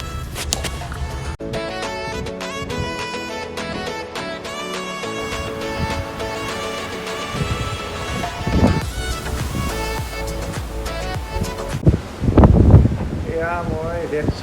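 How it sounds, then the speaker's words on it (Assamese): Strong wind roars steadily on a ship crossing the Red Sea from Saudi Arabia toward Jordan, buffeting the microphone with a continuous rushing noise and louder gusts near the end, heard beneath background music. "ইমানেই জোৰে জোৰে বতাহ মাৰিছে মানে আপোনাৰ, সেইকাৰণে শ্বিপখন একেবাৰে লাহে লাহে গৈছে"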